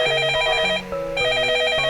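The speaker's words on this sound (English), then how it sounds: "Uh-oh, it's the phone." An old-style telephone bell ringing in the horror video game Up All Night: loud, insistent electric ringing in steady repeated bursts with a brief pause between them, alone and close.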